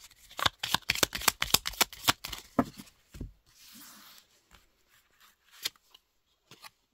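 Lenormand fortune-telling cards are shuffled close by in a quick run of sharp riffling flicks, then a soft sliding rustle and a few scattered taps as the deck settles.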